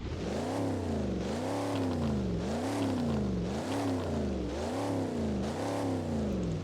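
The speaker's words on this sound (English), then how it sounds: "We have to give the cars revs. So here is the C1 Corvette." A C1 Corvette engine in the Roblox game Driving Empire revs repeatedly, the tone climbing and dropping in about five rhythmic swells, loud and close with no talking.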